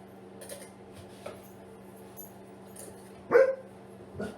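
Household dogs, stirred up after a neighbour's dog visited, let out a few scattered barks, with one sharper, louder bark in the middle, amid faint kitchen clatter of dishes and utensils.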